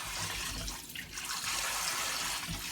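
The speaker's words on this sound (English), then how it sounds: "put our potatoes inside of the water and rinse them off real good" Tap water runs steadily and splashes into a pot as potatoes are rinsed, with a few soft knocks and sloshes, close and continuous with no talking.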